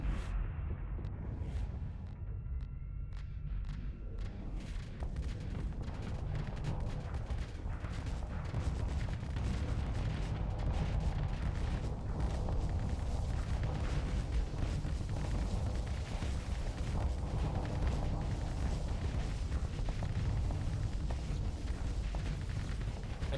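Tachyon Lance and Hypervelocity Driver weapons firing with EMP damage in the space combat game Starsector, a dense continuous barrage of booming blasts and crackling impacts over a low rumble, heavy and unbroken throughout.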